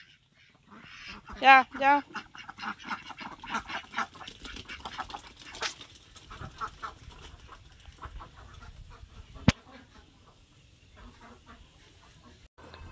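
Domestic ducks feed and call, loud quacking bursts close by at first, then softer chattering as they eat, with a person calling out over them.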